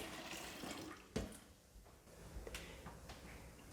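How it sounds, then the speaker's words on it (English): Whey poured off freshly cut cheddar cheese curds into a container while making farmhouse cheddar, a soft continuous watery trickle and splash with a brief louder splash partway through, fairly faint throughout. "we're going to pour off some of the whey so we can reserve it for future uses"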